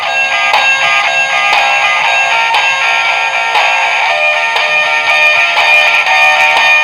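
A puzzle alarm clock rings in a bedroom with a loud, continuous electronic beeping buzz that pulses steadily throughout and stays constant in level.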